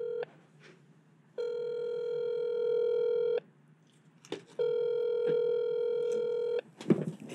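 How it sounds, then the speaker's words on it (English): An outgoing phone call rings unanswered on a podcast, with two long, steady ringback tones separated by a pause and a brief clatter at the end. "He does not answer this phone call."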